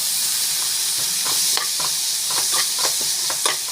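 Ginger garlic paste sautés in a hot pan with a loud, steady hissing sizzle, punctuated by several quick scraping strokes of a spoon close by.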